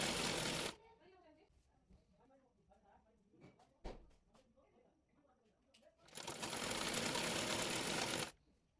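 A sewing machine stitching a sleeve runs in two loud bursts, one short at the start and a longer one near the end, with a person talking in the quieter stretch between.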